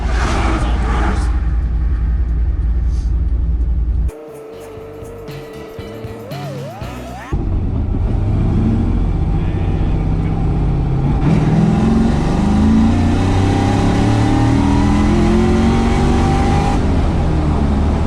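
The engine of a 1967 Nova running an LSA V8 on E85 rumbles loudly at idle and revs, with an abrupt quieter stretch midway before the close, heavy engine roar returns.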